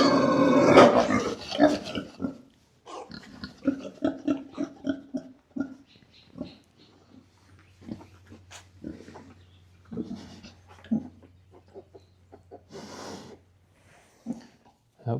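A Kunekune sow gives shrill, harsh squawks and screams while birthing her first litter of piglets, in repeated bursts with pauses, close by, and a person talks softly between them.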